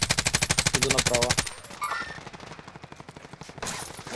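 Rapid automatic gunfire rattles in Call of Duty Warzone, a loud close burst of evenly spaced shots that cuts off, then sparser distant shots follow with faint background voices.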